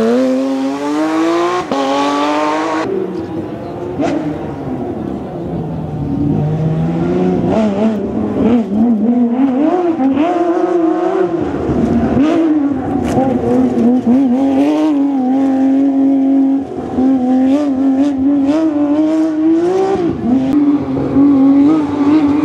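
A rear-wheel-drive Porsche rally car of over 300 horsepower races at Rally Vyškov 2017, its loud engine revving up and down through gear changes in a continuous, close, rising and falling roar.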